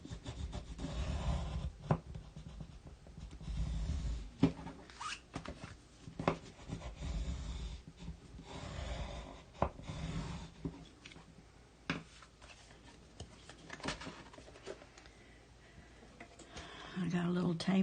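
Folded paper for a scrapbook is burnished by hand: quiet rubbing and scraping strokes with scattered taps and clicks, close and soft, while a person talks over much of it.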